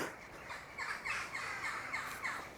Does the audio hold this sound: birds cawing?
yes